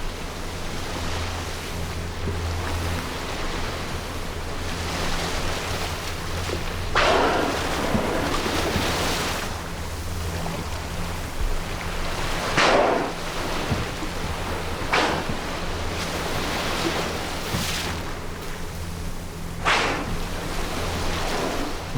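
Open-sea waves wash continuously with a broad, steady hiss, broken by periodic louder surges as swells break, with no voices.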